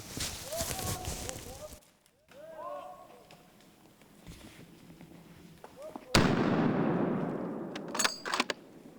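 A single loud .270 Winchester hunting rifle shot is fired at wild boar during a cold-weather hunt. The sharp crack has a long fading echo tail, with people talking quietly before it.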